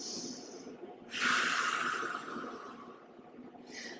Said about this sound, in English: Take a nice big breath here